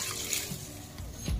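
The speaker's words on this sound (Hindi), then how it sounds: "अब हम इसमें पानी डाल देंगे," Water poured into a pot of black urad lentils being cooked as a saag-style dal, a steady soft splashing pour that stays fairly quiet and even throughout.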